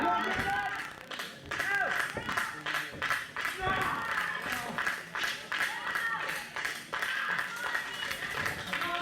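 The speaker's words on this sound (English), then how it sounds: "Crowd here at the Fightatorium willing Marty Clay back to his feet" Crowd at the Fightatorium wrestling arena cheering and clapping to rouse a downed fighter, a continuous roar of applause and shouts under a commentator's voice.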